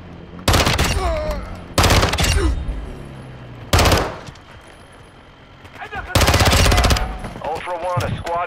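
Loud bursts of machine gun fire rip through a video game shootout in four sharp volleys, with radio-style game voices and players talking between and over the shots.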